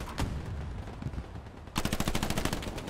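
Automatic gunfire in the World War II shooter Hell Let Loose, Hürtgen Forest setting: scattered single shots, then a sustained rapid volley of machine-gun fire, loud and sharp with no speech.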